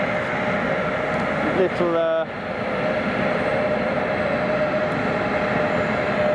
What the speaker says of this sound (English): So this is the arriving aircraft.